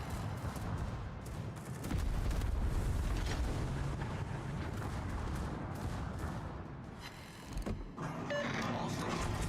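Naval gunfire and explosions in the World of Warships video game, a dense rumbling barrage of booms and blasts rolling continuously, loud and heavy, with brief sharper cracks near the end.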